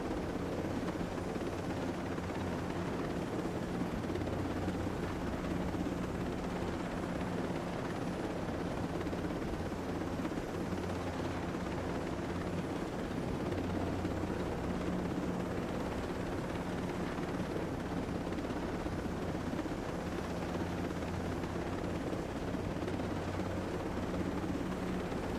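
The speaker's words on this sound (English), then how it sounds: "Suspicious noise. A helicopter?" A steady, unbroken video game helicopter drone, from Ghost Recon Breakpoint, with dense rotor rumble, holding a constant level throughout with no voices.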